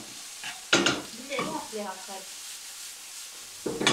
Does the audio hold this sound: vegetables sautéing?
yes